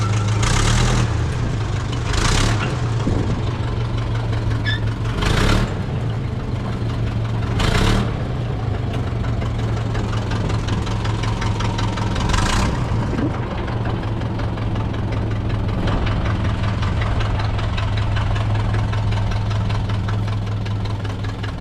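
Model train cars roll through newly laid track switches on a siding: a steady low running hum with a few sharp, widely spaced clacks as the wheels cross the switch points.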